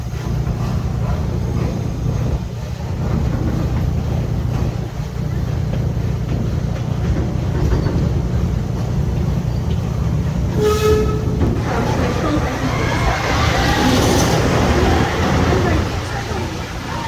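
Busch Gardens Williamsburg railway train rolling across a trestle, a steady low rumble of wheels and cars sustained throughout, with a brief whistle-like tone and some background clatter near the end.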